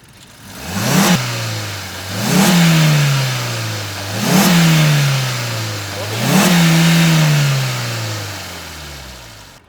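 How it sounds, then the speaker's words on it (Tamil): A Maruti Suzuki Fronx Delta+ (O) engine is revved four times in succession from idle, each blip climbing quickly then falling back, loud and close with no talk. "நான் ரேவ் பண்ணி காமிக்கிறேன் ரேவ் பண்ணுறப்ப என்ஜின் எப்படி வந்து உங்களுக்கு அந்த ரேவ் நோட் எப்படி இருக்குது அப்படின்றத பார்க்கலாம்"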